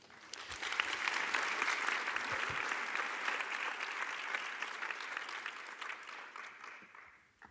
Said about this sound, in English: maybe a round of applause for the three presenters